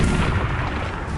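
Incendio fire spell cast in Hogwarts Legacy, a loud, dense burst of roaring, crackling fire that fills the whole moment without a break, with no speech over it.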